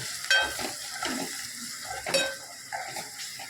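A utensil scrapes and stirs spices through hot sizzling oil in a pan, with a couple of sharp clinks against the metal and no talking.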